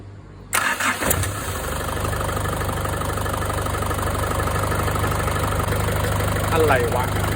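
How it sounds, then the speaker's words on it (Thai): A diesel engine cranks and catches, then settles into a steady running rumble that rises slightly near the end as it is revved, close to the microphone. "ตอนสตาร์ก็เร่งเครื่องช่วยมันหน่อยนิดนึง"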